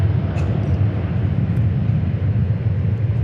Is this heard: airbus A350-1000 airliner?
yes